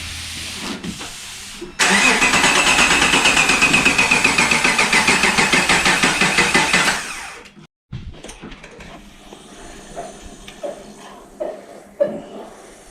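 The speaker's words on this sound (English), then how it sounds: "Now Adam's gonna try and fire it up." A Subaru SVX engine cranks with a fast rhythmic starter whir for several seconds, stops abruptly, then light clicks and clunks follow, loud and close in a garage after a transmission swap.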